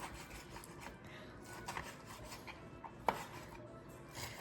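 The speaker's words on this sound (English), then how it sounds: "I'm just gonna cut it up small." A knife cuts leftover pork belly into small cubes on a board, with faint rubbing strokes and a single sharp chop, quiet and close.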